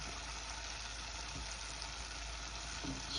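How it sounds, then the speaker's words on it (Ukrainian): Onion frying together with milk-cap mushrooms in a pan, a faint, steady hiss of sizzling with a few soft stirring sounds, no talking. "Я посолила вже і додаю, додаю цибулю до грибочки."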